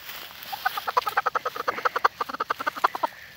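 A chicken clucks in a quick run of short, sharp repeated notes, close and fairly clear against a quiet background.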